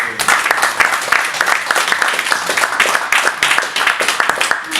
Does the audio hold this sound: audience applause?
yes